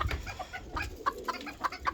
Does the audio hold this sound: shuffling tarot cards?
no